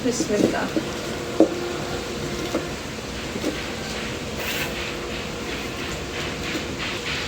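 Oil heating in a wok (kadai) before frying pumpkin-flower fritters made with khesari lentil paste, onion and chili, giving a steady faint sizzle and hiss with a few sharp clinks and taps of utensils.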